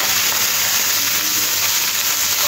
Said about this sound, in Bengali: তাওয়ার মধ্যে একটু তেল নিয়ে নিয়েছি, এবার তেলটাও গরম করে নিয়ে আলুগুলো দিয়ে দেবো।